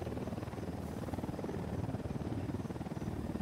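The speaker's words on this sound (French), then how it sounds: "L'hélicoptère." Helicopter in the video game Ghost Recon Wildlands, a steady dense rotor thrum and whine filling the whole moment, loud and continuous with no voices over it.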